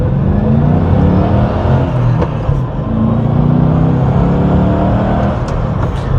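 Ford Mustang V8 with a manual gearbox pulling hard in first gear, a loud, dense engine roar that holds steady and strong throughout, heard close up from inside with no talking.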